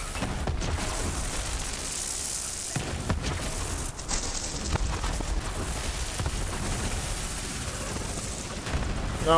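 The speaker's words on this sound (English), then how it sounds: "Oh, fuck your flamethrower" Flamethrower fire in the Borderlands 3 video game, a dense continuous roaring blast with rumbling bursts and pops that stay loud from start to end.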